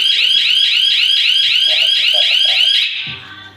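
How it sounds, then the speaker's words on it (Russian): A Hi-Q car alarm siren blares loud and close in rapid, repeating rising chirps, then cuts off and leaves a low mechanical clunk at the end. "Вот так работает сигнализация."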